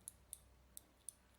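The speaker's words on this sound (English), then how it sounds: "you can hear it clicking" Dyson DC05/DC08 cylinder vacuum cleaner on-off switch clicking faintly and close, five small sharp clicks spaced irregularly over a quiet background.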